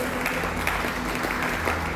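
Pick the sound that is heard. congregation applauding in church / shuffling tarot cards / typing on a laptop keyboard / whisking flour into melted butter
congregation applauding in church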